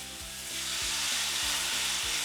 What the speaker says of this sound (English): I'll just let this fry about 2 or 3 minutes on each side. In goes my first piece. Listen to that sizzle.